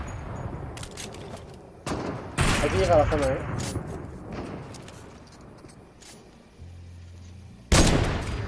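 Bursts of video game gunfire crack out amid background game noise, with a voice speaking over the shots.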